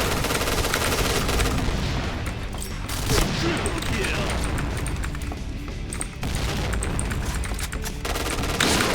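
Rapid automatic fire from the CSR gun in the online shooter Point Blank, loud bursts of gunfire running almost continuously with brief lulls, mixed with game effects and a voice talking over it.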